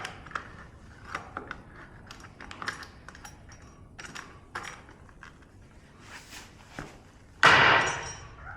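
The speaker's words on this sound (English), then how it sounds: "Crowbar against stripped screws." Crowbar prying against stripped screws, with scattered sharp metallic taps and scrapes, then a sudden loud grinding crack near the end as a screw head gives way.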